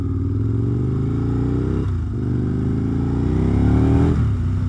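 An Aprilia RSV 1000 10th Anniversary Edition motorcycle under way, its engine a loud, steady drone that rises in pitch through the gears, with a brief dip at each shift.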